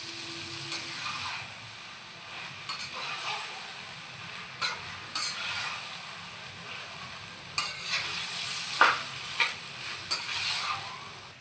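Raw chicken, about a kilogram, being stirred and mixed by hand in a pot, with intermittent wet squelching and scraping clicks close by, no talking.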